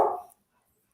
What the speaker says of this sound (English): My apologies, that is my dog.